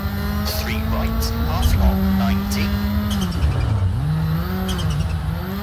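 A Hyundai i20 N rally car engine screams near its redline in EA Sports WRC 2023 on a Montagut gravel stage, a loud sustained drone that sags briefly and climbs again, while someone talks throughout.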